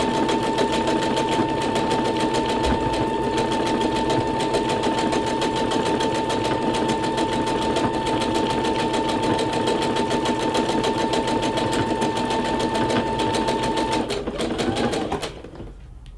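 A Brother SE625 sewing machine stitches silky fabric with a steady, rapid mechanical whir and a constant high whine, running evenly for about fourteen seconds before slowing and stopping.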